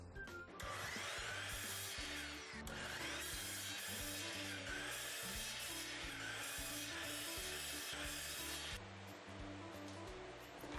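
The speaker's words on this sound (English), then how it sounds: "I cut my 64 shelf support pieces from 1/2 inch MDF." A power saw cuts through 1/2 inch MDF shelf support pieces, a loud continuous whine and rasp with brief pauses between passes, alone and close up.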